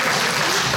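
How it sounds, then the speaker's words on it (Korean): An audience at a symposium of Korean Catholic priests breaks into a short burst of applause. The clapping is loud, dense and continuous, with no speech over it. "박수 한번 쳐주십시오"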